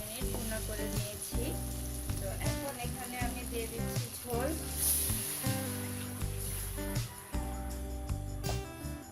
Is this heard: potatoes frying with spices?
yes